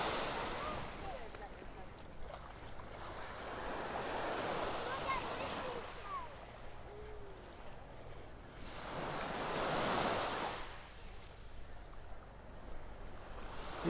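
Surf rolls onto Vanderbilt Beach in North Naples, Florida, as a steady soft wash with swells of breaking waves around the middle and near the end, plus a little wind rumble.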